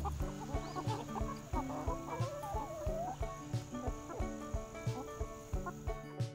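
Free-ranging pasture chickens cluck softly and repeatedly in a quiet outdoor setting, short rhythmic clucks and murmurs continuing throughout at a faint, moderate distance.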